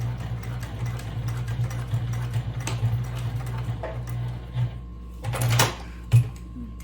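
A sewing machine stitching back and forth across bag strap webbing, with a steady close mechanical hum and ticking that pauses and resumes, followed by a few sharp clicks and knocks near the end.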